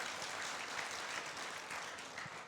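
Applause from an audience at a Hakka culture conference, a dense steady patter of many hands clapping throughout, moderately distant and even in level with no talking.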